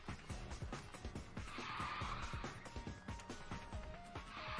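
A car in the Thrill Racer video game drifts and skids, its tires squealing in long screeches over a revving engine and rhythmic game music, fairly faint overall.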